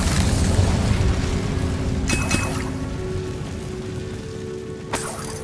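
The Incendio fire spell cast in the Hogwarts Legacy video game gives a dense, roaring rush of noise with two sharp bursting hits a few seconds apart, loud and close with no talk.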